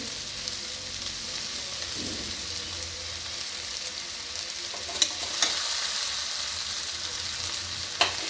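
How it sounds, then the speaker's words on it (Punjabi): Coriander powder sizzles and fries with mongra vegetable in a pan, a steady hiss broken by a few sharp spoon scrapes and clicks against the vessel, with no talking. "ਇਹਨੂੰ ਬਸ ਜਰਾ ਭੁੰਨ ਲਵਾਂਗੇ"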